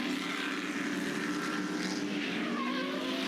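Stadium Super Trucks at a Townsville street race come down into the turn 11 hairpin, a steady, fairly faint engine roar with rising and falling pitches as the trucks brake and accelerate through the corner.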